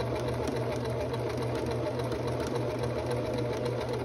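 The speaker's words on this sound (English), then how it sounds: "Don't forget to backstitch." A sewing machine runs continuously at steady speed, stitching and backstitching the placket of an olive green shirt. The motor whirs loud and close with no pause.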